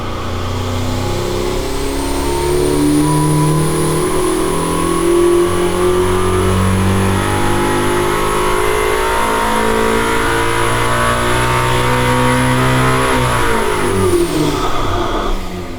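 Koenigsegg Gemera engine revving hard on a dynamometer during a full power pull of about 1,050 horsepower, with a loud, sustained, rising roar that climbs steadily for roughly fourteen seconds before cutting off, accompanied by a high whine.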